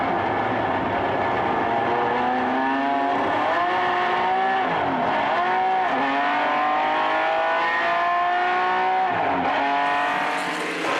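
A Greenwood Corvette and a 1982 Ford Mustang launch from a vintage road-race start, engines screaming loudly and up close, pitch climbing repeatedly through gear changes with brief dips between shifts, no talk.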